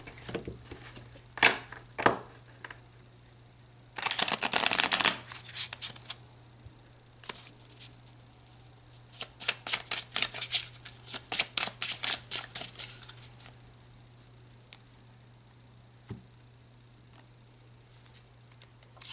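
Tarot cards riffle-shuffled in several quick bursts, crisp papery flutters close up, with short pauses between shuffles and no talking.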